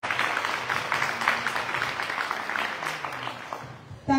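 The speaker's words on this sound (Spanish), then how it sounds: "Un fuerte aplauso para ella." Applause from a ceremony audience at a kindergarten teaching-materials handover in Jalpa, Zacatecas, steady clapping throughout, moderately loud, ending with a brief louder burst.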